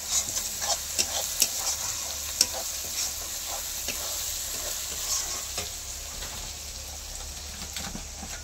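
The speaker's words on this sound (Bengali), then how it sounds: "তারপরে রসুন দিয়ে আমি নাড়ছি" Garlic, onion and salted, turmeric-rubbed meat fry in oil while being stirred, a continuous close sizzle broken by irregular scraping strokes of a utensil against the pan, with no talking.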